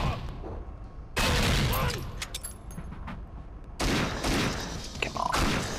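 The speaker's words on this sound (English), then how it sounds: "you shoot me through those tiny holes in the grate" Enemy gunfire in a video game shooter mission, loud bursts of rapid shots in several rounds with mechanical clatter between them, and no talk.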